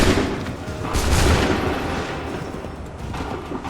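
A volley of musket fire from soldiers in Assassin's Creed III erupts as a loud, booming fusillade of overlapping shots. It swells and then rolls away in a rumbling decay.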